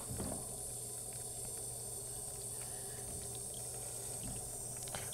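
Water hisses out of the bleed valve of a home radiator in a steady, continuous rush, close by and unbroken throughout.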